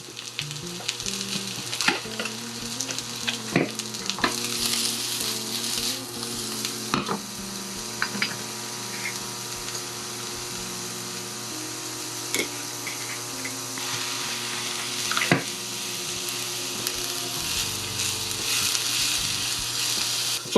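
Mushrooms sizzle steadily in a hot pan for vegan udon, a constant close frying hiss with occasional scraping clicks as they are stirred, and no talking.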